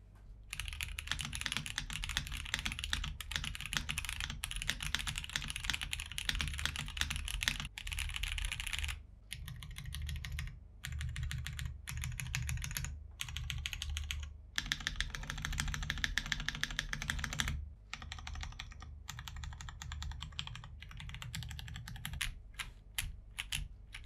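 Rapid clacking keystrokes come from a Rexus Daxa M82X mechanical keyboard, a dense, close stream of typing broken by short pauses, heard alone without speech.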